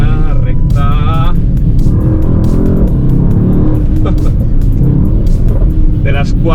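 A Mercedes-AMG GT 63 S V8 accelerates hard, its loud engine roar rising steadily from inside the car, while someone talks over it throughout.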